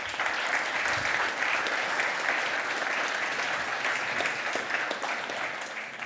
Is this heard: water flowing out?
no